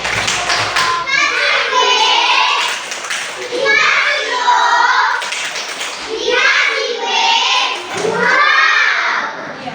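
A primary school class claps together in a rhythmic group clapping chant, loud and close, mixed with children's voices chanting and calling out in bursts throughout.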